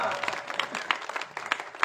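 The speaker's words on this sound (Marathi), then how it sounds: "राजसाहेब ठाकरेंना टाळ्या वाजवा यांच्याकरता." A brief burst of audience applause at a political speech in Hari Vitthal Nagar, loud and close, with many hands clapping together and a few voices mixed in.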